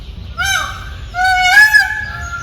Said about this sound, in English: Sound of peacock.